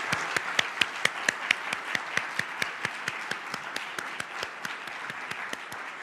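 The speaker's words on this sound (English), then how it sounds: "Let's give everyone a round of applause." An audience at a university conversation event with the Ohio State University president applauds, crisp evenly paced claps standing out over a steady wash of clapping, close and without talk.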